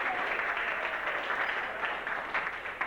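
An audience at a dinner gathering of The Lambs claps, a steady, fairly full round of applause heard from a little distance that fades slightly toward the end.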